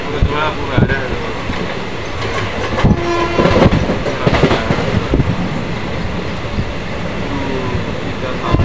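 A train rolls into an Indian railway station, its steady rumble and clatter of wagons heard up close with a horn, while people talk nearby.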